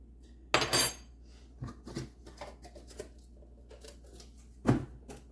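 Flour and salt mixed in a bowl for homemade noodle dough, heard as a few sharp clinks of utensil against bowl separated by quieter scraping and stirring.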